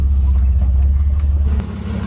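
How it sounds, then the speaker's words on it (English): A Chevy S-10 pickup rolling up onto ramps for an oil change, a loud close low engine rumble that holds steady and then drops off as the truck settles. "Having the old lady pull the truck up on the ramps for us."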